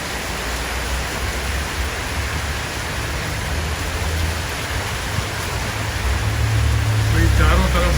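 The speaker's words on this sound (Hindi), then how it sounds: "भाई चारों तरफ बारिश ही बारिश है, एकदम ज़बरदस्त मौसम ठंडा हो गया" Heavy rain pours down in Thailand as a dense, continuous hiss that swells slightly toward the end, with a low rumble underneath.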